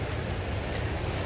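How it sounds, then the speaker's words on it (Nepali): Steady rain pours down in Kerala during a heavy monsoon spell, a dense, continuous hiss of falling water filling the clip with no voices. "र अहिले पनि पानी परिरहेको छ"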